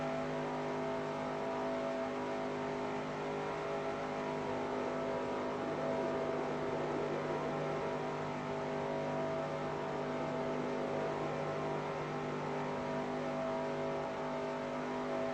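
A NASCAR race car engine holding a loud, steady high-pitched drone as it keeps gaining RPM, tonal and continuous, close and alone.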